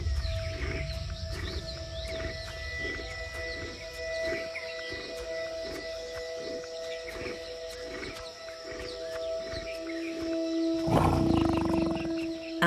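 A male tiger in an Indian jungle gives a series of deep rhythmic roars and grunts, repeated pulses against a background of insects and birds, followed by a louder, rougher burst.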